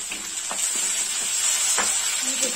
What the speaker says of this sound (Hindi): तड़का मार रहे हैं इनपे।